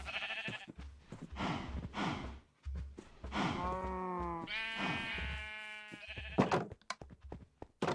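Several video game sheep bleat in overlapping, wavering calls, some long and quavering, over a steady low background hum.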